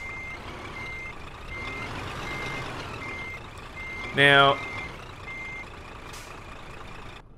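Reversing beeps from a truck in Euro Truck Simulator 2 as it turns around, a quick burst of loud rapid beeps about midway, set over a steady engine drone with someone talking.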